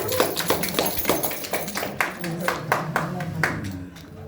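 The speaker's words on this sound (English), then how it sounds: "Tammy, let's give her a big round of applause." Wedding guests clap for the bride in a moderate, uneven round of applause with individual claps distinct and near. Some voices are mixed in underneath.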